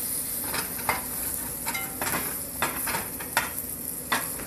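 Bacon pancakes fry in a pan with a steady, close sizzle, punctuated every second or so by light spatula taps and scrapes against the pan.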